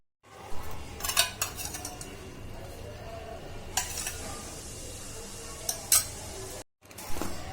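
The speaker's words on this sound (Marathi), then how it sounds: "आता थोडंसं तूप घालून गव्हाचं पीठ भाजून घेते।" Wheat flour roasts in ghee in a pan, a low steady frying hiss broken by several sharp spoon clinks and scrapes against the metal pan.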